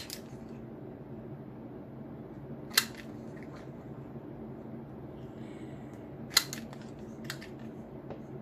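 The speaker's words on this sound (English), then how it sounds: "So I will actually use the corner paper punch." A corner paper punch clicks through scrap paper stock for deco labels, giving a few sharp isolated snaps spaced several seconds apart over a quiet room background.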